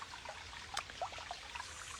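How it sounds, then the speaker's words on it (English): Mountain water flows and trickles steadily nearby in an outdoor setting, a soft continuous wash of stream noise with a few brighter splashes, quiet and unbroken by talk. "As I sit here and I hear the water flowing"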